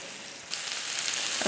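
Cube steaks fry in a pan for a crust before going into a crock pot, a steady hiss of sizzling oil that swells suddenly after a quiet half-second start and holds, close and fairly loud, on its own.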